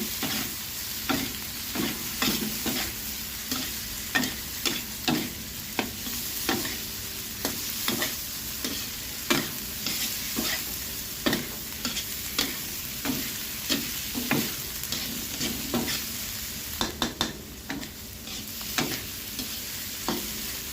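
Eel pieces being stir-fried for a spicy Thai-style stir-fry, with steady scraping strokes of a spatula in the pan over a constant close sizzle, the stirring repeating roughly every second throughout with no talk.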